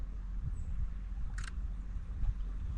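A single crisp shutter click from a Sony ZV-E1 camera beside a river, over a quiet outdoor background with low rumble.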